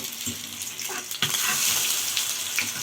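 Cauliflower patties fry in very hot oil in a pan, a bright crackling sizzle with sharp pops and a louder surge as they are turned, no talking.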